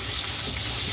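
Food frying in hot oil, a steady close hiss of sizzling with fine crackle, unbroken for the whole second.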